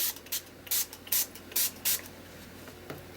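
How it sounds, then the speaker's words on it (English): A spray bottle spritzes water onto a wet painting in a quick series of short, close hissing bursts with brief pauses between them, set against a quiet room. "And then I'm going to spritz it"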